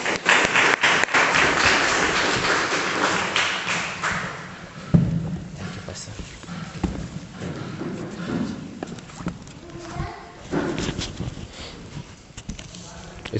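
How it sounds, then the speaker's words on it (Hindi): A church congregation claps to welcome a reverend to the front, a dense burst of applause that is loudest at first and thins out into scattered claps and shuffling. "आइए हम जोरदार तालियों के साथ उनका स्वागत करें।"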